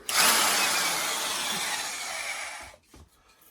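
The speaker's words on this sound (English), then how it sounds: "I'm going to use a hole saw for this, my personal favorite way to make a hole." A heavy-duty Hole Hog drill with a hole saw on a locking arbor cuts a hole, giving a loud, steady rasping grind that runs for under three seconds and then stops abruptly, leaving quiet rustling.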